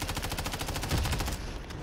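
Automatic gunfire in Call of Duty, a fast, unbroken stream of evenly spaced shots at close range, loud and steady for nearly two seconds.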